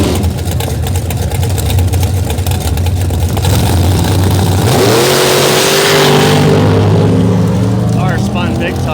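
A drag race car's engine roars loudly through a time trial pass, a dense sustained blare that climbs in pitch as it revs and pulls away, with voices in the background.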